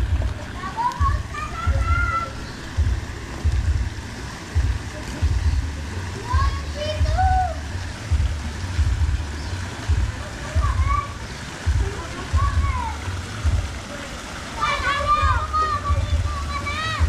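Water splashes and sloshes steadily as a child showers at home during New Year festivities, close and continuous, with children's voices and adult chatter over it.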